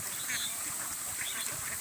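Domestic ducks kept as a farm flock give off a steady, busy run of overlapping quacks and honks under a constant hiss of background noise, moderately loud, with no one talking.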